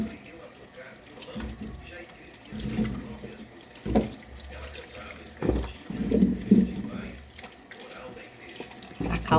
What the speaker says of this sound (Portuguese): Tem água corrente.